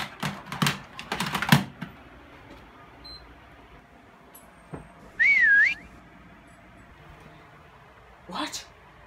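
A short rising and falling whistle from a hidden prop in a Call of Duty WWII prop hunt match sounds once midway, amid clicking keyboard taps and bursts of game noise, with a voice speaking at times.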